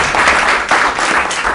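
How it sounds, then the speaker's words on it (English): Steady audience applause fills a meeting room for one of the school's teachers, a dense, even clatter of many hands that keeps going without a pause. "Let's give her a round of applause as well"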